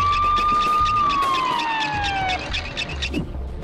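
Cartoon ambulance siren wailing loudly and close, a single long tone that holds steady and then slides downward, with sharp clattering animated sound effects around it and no speech.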